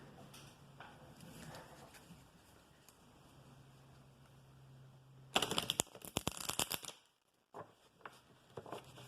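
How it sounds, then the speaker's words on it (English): A sudden loud riffle of shuffled tarot cards, crisp rapid flutters up close, then a few softer taps and shuffles after a quiet gap. "That was a loud shuffle."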